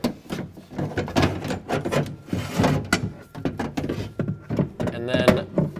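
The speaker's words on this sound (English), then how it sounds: "now we're going to slide the new regulator back into the door" A new window regulator slides back into the front door of a 2008-2012 Ford Escape with close, busy scraping, knocking and clattering that continues steadily throughout.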